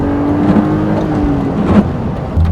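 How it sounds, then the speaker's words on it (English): A 2002 BMW Z3 2.2i roadster gives a smooth, moderately loud exhaust note from nearby while driving, with small swells in engine tone. "It's nice and quiet with the roof up, and it makes a really nice exhaust note."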